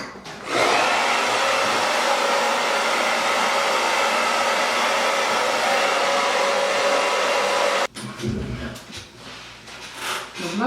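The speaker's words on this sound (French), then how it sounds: "Et je vais sécher à l'aide de mon sèche-cheveux." Hair dryer blowing steadily and loud for about seven seconds onto a spray-treated wig closure, then cutting off abruptly into quieter handling noises.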